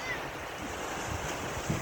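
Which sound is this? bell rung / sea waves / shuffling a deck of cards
sea waves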